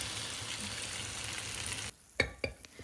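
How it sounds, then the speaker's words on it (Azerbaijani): A kuku patty frying in a pan gives a steady sizzle that cuts off abruptly, then two sharp close clatters of the pan or utensil, with no talking. "Hər iki tərəfini bişirirəm"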